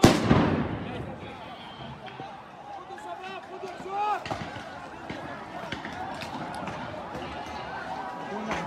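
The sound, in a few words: stun grenades, tear gas and rubber bullets fired by forces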